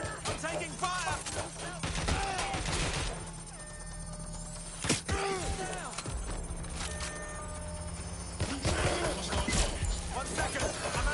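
Gunfire in the video game Watch Dogs: Legion, with repeated sharp shots and bursts scattered through a busy mix of game sounds and voices.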